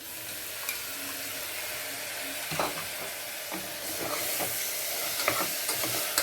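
Tomatoes stirred and fried in a pan for mutton trotter soup, a continuous sizzle broken by a few scraping stirs that grow busier toward the end.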